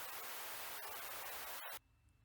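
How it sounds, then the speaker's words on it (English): Dense hiss of EQ'd pink noise layered on a kick drum fills most of the clip, then cuts off abruptly near the end, leaving only a faint low rumble. "I added pink noise also to the kick drum, but I EQ'd it to a different frequency."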